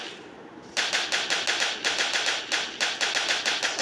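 A rapid-fire weapon in the video game Flag Wars rattles off a fast, steady stream of evenly spaced shots, close and prominent with no talk over it.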